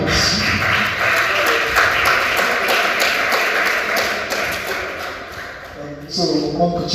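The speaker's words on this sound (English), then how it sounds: "Please, a round of applause." A room of listeners at a law school finalists' event breaks into a round of applause: dense, steady clapping for several seconds. Voices carry along with it, and it thins out near the end.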